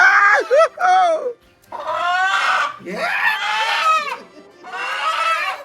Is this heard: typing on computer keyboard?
no